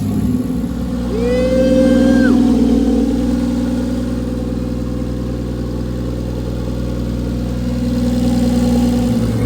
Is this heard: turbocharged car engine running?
yes